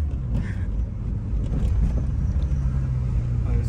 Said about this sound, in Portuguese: o boy passa acelerando ainda